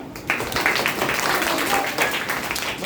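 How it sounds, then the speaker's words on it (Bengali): Schoolgirls at a primary school Rakhi Bandhan celebration clap their hands together in a loud, dense burst of applause, mixed with chatter from the room. "হাততালি।"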